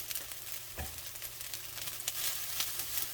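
Sesame seeds go into rice frying in a pan, the steady close sizzle of oil running through the whole short stretch, with one brief soft thump near the start and no talking.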